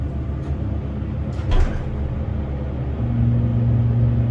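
A loud Otis hydraulic elevator in a building at 333 Jericho Turnpike, Jericho, NY runs with a steady low rumble, a brief clunk partway through, then a stronger droning hum as the motor settles into its run.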